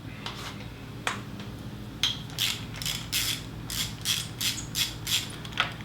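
Ratchet backing out Allen bolts from a Yamaha WR250R motorcycle fuel tank, near the steering head and under the seat; a series of short, crisp clicking bursts that repeat in an uneven rhythm, close up and moderately loud with no talk.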